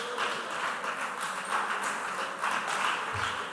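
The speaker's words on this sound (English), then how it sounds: "A round of applause to David and Elijah." A school quiz competition audience gives a short round of applause: light, scattered clapping that stays fairly quiet and comes in uneven bursts.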